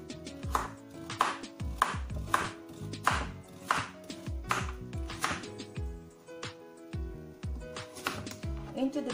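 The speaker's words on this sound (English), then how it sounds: "now I'm gonna cut the one carrot" Rapid, steady knife strokes chop through a carrot on a cutting board while making kimchi, close and crisp, with music or voices playing softly underneath.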